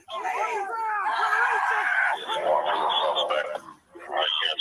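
A police dog barking and yelping during an arrest, loud repeated barks mixed with whines and howl-like cries, close by, with shouting voices and radio chatter overlapping.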